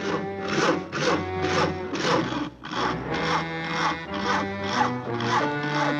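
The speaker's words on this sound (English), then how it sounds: "Isn't that your house Harry is sawing on?" Steady back-and-forth sawing through a wooden tree limb, rhythmic strokes repeating about twice a second, close and fairly loud.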